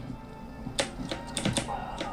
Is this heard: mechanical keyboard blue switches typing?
yes